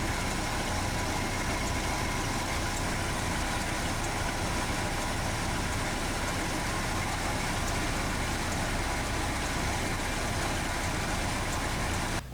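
A Ford 360 V8 engine idling with ignition timing advanced to about 41 degrees, a steady, even rumble that runs unbroken and close for the whole stretch.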